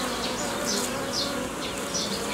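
Honey bees buzz at an apiary hive, a dense continuous hum close by with individual bees whining past now and then, loud and steady throughout with no voices.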